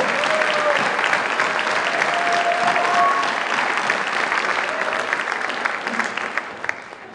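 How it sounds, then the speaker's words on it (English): Audience applause at a live stage show, a sustained wash of many hands clapping with light crowd noise, loud and steady before tapering off at the end. "Another round of applause."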